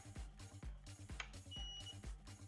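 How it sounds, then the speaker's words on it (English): A flight controller beeper on a Genius 215 racing drone sounds a short, thin electronic tone as the board arms, set against steady rhythmic low thumping that continues throughout. "You can hear my beeper went off, it means the board is armed."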